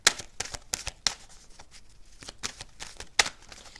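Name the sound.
shuffling tarot cards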